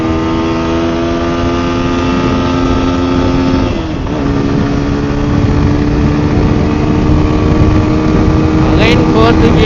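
A TVS Apache RTR 160 4V motorcycle engine while riding, a steady loud drone with a dip and shift around the middle like a gear change, then the pitch settling higher.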